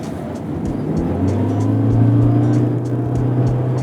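A Toyota Corolla Cross accelerates on a real road after switching from Eco to Power mode, its engine drone rising steadily with a slight thin whine layered on top, close and loud from inside the cabin.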